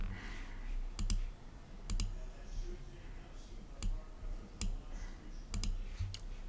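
Sharp computer mouse clicks in Harmony Premium animation software, mostly in quick pairs spread through the clip, close and crisp over a low room hum.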